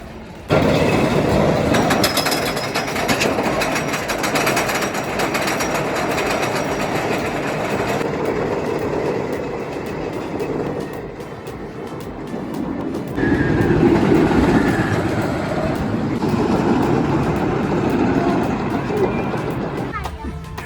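Rolling rumble and rattling clatter of the Outlaw Run RMC wooden roller coaster at Silver Dollar City, a sustained loud roar with surges and a brief dip mid-ride, rider noise mixed in throughout.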